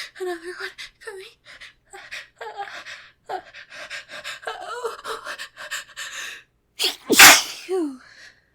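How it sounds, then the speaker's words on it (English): Someone talks and pants anxiously for several seconds, then lets out one loud, forceful sneeze near the end, with a brief voiced sound after it. "I feel a sneeze. Another one coming."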